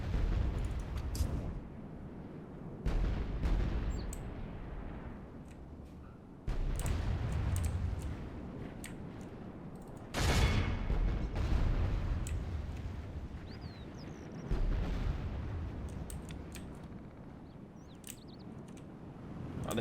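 Empire cannons boom in a Total War battle, several muffled blasts arriving at irregular intervals over a rumbling battlefield din.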